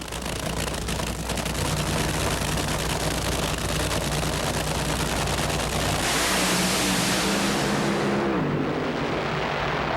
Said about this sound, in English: In the near lane, the Kendall car, Whit Bazemore, for a chance to advance to the finals in Atlanta.